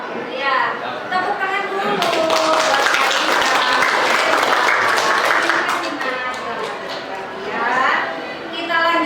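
Classroom of students clapping for a classmate named Aisha, a burst of applause swelling in the middle and then fading, with a teacher's voice and chatter heard before and after.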